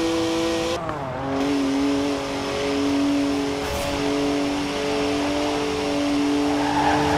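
A BMW 1M in the Forza Horizon 4 racing game, its engine droning and climbing steadily through the gears with a brief tire squeal, loud and close, with no voices.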